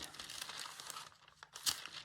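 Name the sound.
scissors cutting thick linen fabric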